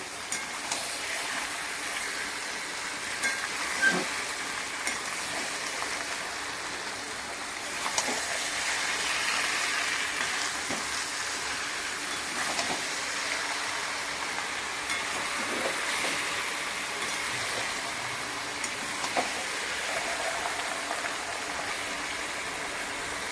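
Food stirred in a hot pan, with a steady sizzling hiss throughout and occasional faint scrapes and clinks of the spoon.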